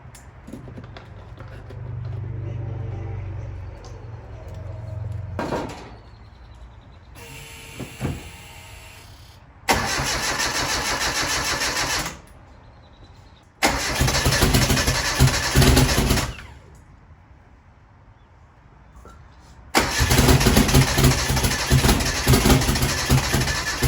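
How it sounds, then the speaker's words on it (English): A turbocharged Mitsubishi Eclipse engine cranks over in several loud, separate bursts of starter whirring, each lasting a few seconds with quiet pauses between, heard close up. "let's crank it over and get it primed up."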